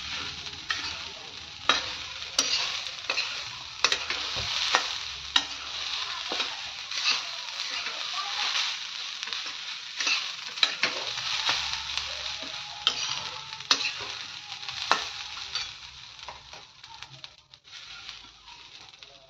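Grated coconut being stirred and roasted with a little ghee in a pan for ukdiche modak, a steady soft sizzle broken by frequent scraping spoon strokes, close and continuous with no voices.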